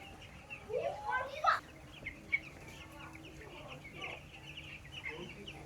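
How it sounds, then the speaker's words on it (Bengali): Young chicks at a poultry farm beside a temple cluck and cheep in a few close bursts early on, then scattered softer calls follow over a low background with some talk. "ছোট ছোট মুরগির ছানাতে ভর্তি একদম।"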